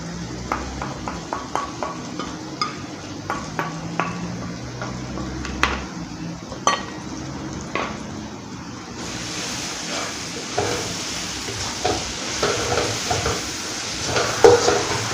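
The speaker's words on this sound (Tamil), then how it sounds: "இப்போ நான் அடுப்பை ஸ்லோ பண்ணிவிட்டு மல்லித்தூள், மிளகாத்தூள், தயிர் எல்லாத்தையும் கலக்கிறேன்" A spoon stirring coriander powder, chilli powder and curd in a pan on low heat for chicken biryani, with repeated scraping taps and a soft sizzle, growing into a steadier hiss in the second half.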